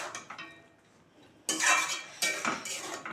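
A spatula and lid clatter on a cooking pot of prawn and cauliflower bhapa: a soft scrape first, then two bright metallic bursts of rattling, close and alone.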